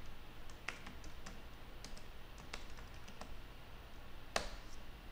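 Someone types on a computer keyboard, a steady patter of light key clicks with a few sharper taps over a faint background hum, close by and with no talking.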